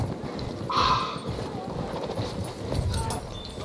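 Horse hooves gallop in the Battlefield 1 video game while a player rides with a sword, a fast clip-clop under noisy battle ambience, with a neigh-like tone and talk in the mix.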